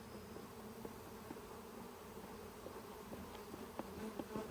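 Honey bees buzz around an opened hive in Oklahoma, a soft continuous drone with individual bees zipping close now and then, no talking.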